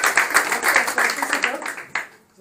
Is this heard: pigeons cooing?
no